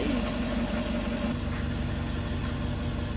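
A carbureted Ford F100 engine idles in park with a steady, even low rumble, fairly quiet and unbroken.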